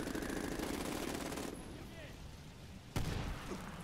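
Gunfire in the shooter game Medal of Honor Warfighter, a steady stream of shots running dense for the first part, easing off, then a single louder burst near the end, with voice faintly mixed in.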